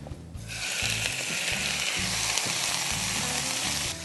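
Shrimp hit hot oil in a large skillet with a sudden, steady sizzle that holds close and loud throughout, with a few low clunks of the pan underneath.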